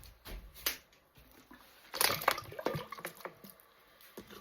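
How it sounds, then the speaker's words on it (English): Water pours into a pot and splashes close by in an uneven burst, louder through the middle, with a few scattered drips and clinks around it. "I'm just gonna add the rest of the water that I have."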